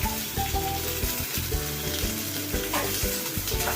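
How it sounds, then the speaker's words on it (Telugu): Onion pieces fry in oil in a pan for a crab curry, giving a loud, continuous crackling sizzle broken by irregular stirring clatter throughout. "ఒక ప్యాన్ పెట్టి కొంచెం ఆయిల్ వేసిందండి. అందులో ఉల్లిపాయ ముక్కలు వేసేస్తుంది ఈవిడ."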